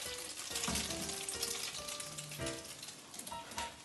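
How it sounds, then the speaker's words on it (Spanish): Battered potatoes frying slowly in a pan of oil, a steady close sizzle and crackle with a few brief stirring clicks, heard alone without talk. "que se vayan friendo despacio"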